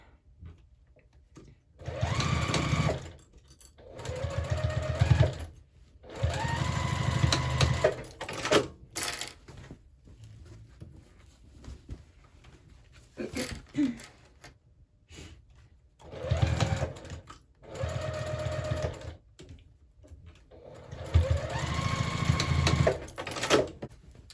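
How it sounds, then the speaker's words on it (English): A sewing machine stitching a quarter-inch seam on a quilted tote bag made from scrap fabric strips, running in several steady whirring bursts separated by short pauses, close and clear. "And then we'll go ahead and sew that at a 1/4 inch seam allowance."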